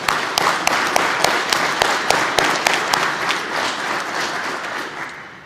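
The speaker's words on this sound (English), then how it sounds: "Let's give yourself a round of applause for that." A crowd applauds at a state highway patrol basic class graduation ceremony. A few loud, close claps punctuate the steady, dense clapping before it gradually tapers off.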